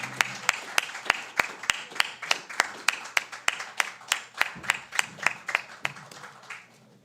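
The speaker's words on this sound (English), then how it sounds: "Let us give them a huge round of applause." An audience at an authors' forum claps for the authors and writers in the room, a sharp rhythmic burst of hand claps that stays steady and close before thinning out near the end, with no talking over it.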